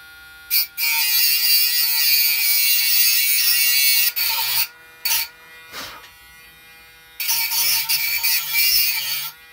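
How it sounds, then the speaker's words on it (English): A Dremel rotary tool shaping a key blank for an antique jail lock gives a loud, close, high-pitched buzzing whine. It starts and stops several times in bursts, with short quiet gaps between runs. "Damn Dremel doesn't like to turn off."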